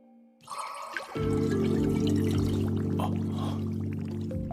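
Water poured by magic in an anime, a short hiss and splash opening into a steady, loud pouring stream with light trickling on top, alone without talk.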